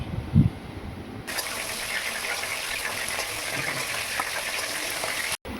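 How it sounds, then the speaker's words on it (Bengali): Shrimp fry in oil on a gas stove with a continuous dense hiss and sizzle after a brief low thump, close and fairly loud, broken by a short cutoff near the end. "চিংড়ি মাছগুলো দুপিট হালকা এদিক ওদিক করে ভেজে নিলাম"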